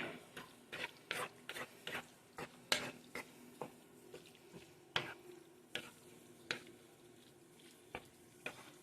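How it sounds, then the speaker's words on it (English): Salsa being stirred into a dish, a spoon scraping and knocking against the container in an irregular series of close, sharp clicks and scrapes over a faint background. "Add your favorite salsa. And you're just going to stir it around."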